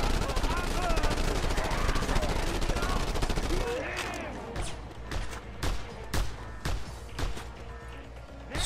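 Gunfire from weapons dual-wielded in the video game Just Cause 2, a dense continuous fusillade at first, then separate sharp bursts and single shots with short gaps, loud and close, with no voices.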